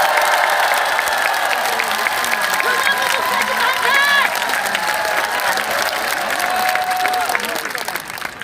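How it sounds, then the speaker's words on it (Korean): A large crowd at a rally on the National Assembly steps breaks into sustained applause, steady clapping with scattered cheers filling the space, while a voice speaks over it. "한번 박수 한번 다시 한번 부탁드리겠습니다"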